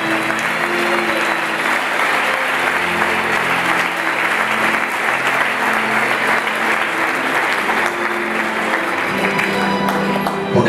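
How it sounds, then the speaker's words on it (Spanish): A church congregation applauds loudly and steadily, a dense wash of clapping that holds for about ten seconds, with faint sustained tones, likely music, beneath it. "¿Por qué no le dan fuerte aplauso a ese Rey?"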